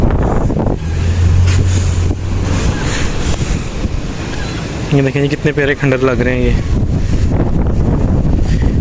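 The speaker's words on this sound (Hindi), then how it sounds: "इतनी ज़बरदस्त हवा चल रही है कि मेरे मोबाइल हाथ से गिरने की पोजीशन में 2-3 बार हुआ है" Strong wind at the shore buffets a phone microphone with a loud, constant rumbling roar, while someone talks over it for part of the time.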